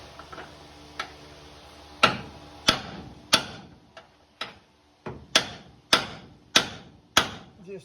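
A bolt being hammered through a pinched frame rail on a Chevy OBS truck during a C-notch and drop job: a series of sharp metallic hammer strikes, close and loud, irregular at first then landing about twice a second.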